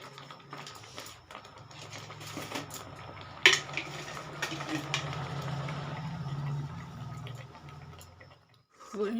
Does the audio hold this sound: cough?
no